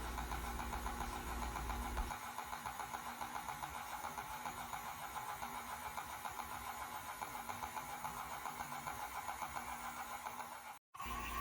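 A small twin-cylinder marine steam engine with a flyball governor runs steadily nearby, a continuous mechanical chugging with a fast regular beat and a brief dropout near the end.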